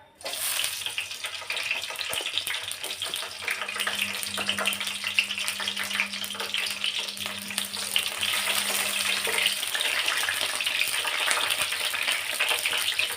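Green chillies frying in hot oil in a kadai, a steady dense sizzle and crackle running throughout at close range, with a faint low hum in the middle part and no voices.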